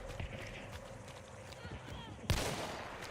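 A silenced gun fires in a video game: one muffled, sharp shot lands near the end after a stretch of quiet tapping movement, and the shot trails off with a short tail.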